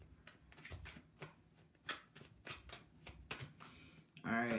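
Tarot cards are shuffled by hand in quick, papery bursts of riffling and slapping, close and fairly quiet, with a voice talking between the shuffles.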